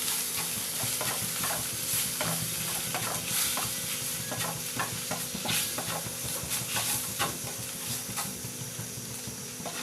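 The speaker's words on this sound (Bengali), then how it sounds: "এটাকে ভালো করে ভেজে নিতে হবে" A spice mixture with panch phoron fries and is stirred in a pan for khichuri, making a dense, steady sizzle with repeated spatula scrapes and taps close by and no talking.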